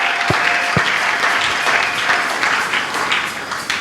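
A church congregation at a Sunday service applauds together, a dense, loud burst of clapping from many hands that carries steadily throughout and tapers slightly at the end.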